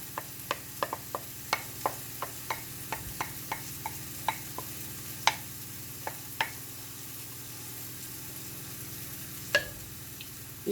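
Chopped onion frying in a pan for a chicken tagine: a quiet, steady sizzle with light tapping and ticking from stirring at an irregular rhythm, heard close and without talk.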